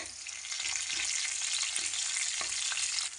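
Green chilies go into onions and potatoes frying in a pan, a bright continuous sizzle and crackle with occasional soft stirring knocks, close and steady throughout, with no talking.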